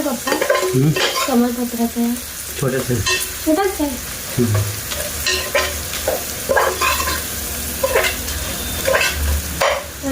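Spiced chicken is stirred and fried in a pan in a village kitchen, a continuous sizzle overlaid with repeated scraping and clanking of a spoon against the pan.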